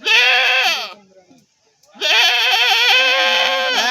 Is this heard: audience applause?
no